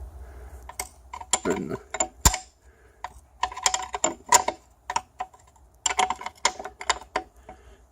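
Ring spanner slowly undoing a nut on a Mercury 1000 outboard motor during a rebuild, a series of close metallic clicks and ratcheting scrapes in irregular bursts, with a brief word spoken.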